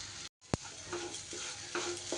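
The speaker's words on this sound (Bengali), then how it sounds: "খুব ভালো করে ডালটা ভেজে নেব।" Dal frying in a pan for a pointed gourd curry: a continuous close sizzle broken by a brief gap, then a sharp knock and repeated scraping stirs.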